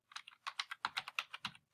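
Fingers type on a computer keyboard in a rapid run of about a dozen crisp, close clicks, with no voice present.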